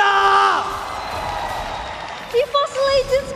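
An esports crowd at a Mobile Legends MPL Indonesia playoff match between RRQ and EVOS Legends cheers and applauds in a loud arena wash, with shouting voices rising toward the end.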